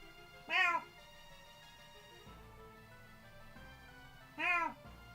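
A cat meows twice, about four seconds apart. Both meows are clear and close, with near-silence between them.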